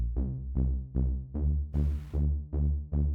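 A synth bass preset pulses in about eight even throbs, each note opening and closing as an LFO sweeps the low-pass filter cutoff, loud and dry with a brief noisy burst midway.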